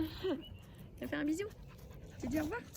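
A dog named Yuki pants quickly and softly up close, the breathy rhythm running under someone speaking affectionately to it.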